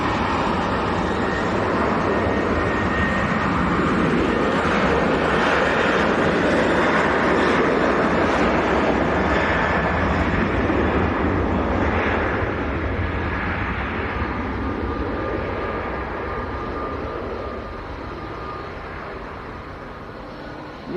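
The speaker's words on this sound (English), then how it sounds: "Kuwait Air Force C-17 just going over" A Kuwait Air Force C-17 military transport jet passes overhead near Manchester Airport. Its jet engines make a broad, steady roar that swells and then fades slowly as it moves away, with no voices.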